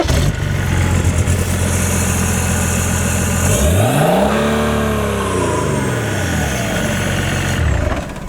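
A BMW 330d diesel with a hybrid turbo idles loudly at a hillclimb, then revs hard in a rising and falling sweep before settling back to a rough, throbbing idle, heard close up.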